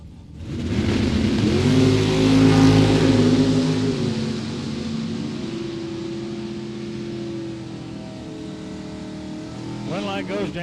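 Camaro drag race cars, Daryl Pollock's and Blaine Anderson's, accelerating hard down the drag strip, a loud engine roar swelling then fading into the distance as an announcer talks over it.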